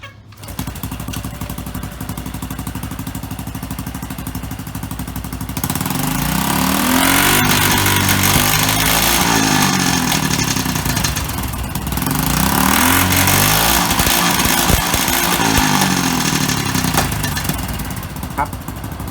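A motorcycle engine, its ECU set to cut off at 5,000 rpm, revs hard and holds against the rev limiter, a loud buzzing drone that surges, stutters and bounces at the cutoff repeatedly.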